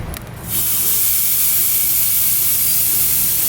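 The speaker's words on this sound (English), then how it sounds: "There's not a lot of things that's better than that sound of the sizzle." Loud, steady sizzling hiss of kabobs searing on a hot grill, starting after a brief quieter moment and continuing without pause.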